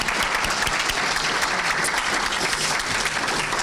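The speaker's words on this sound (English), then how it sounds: "I want to take just a minute and give you guys applause again" Graduates at a high school graduation ceremony receive steady, dense audience applause that fills the hall evenly from start to finish with no break.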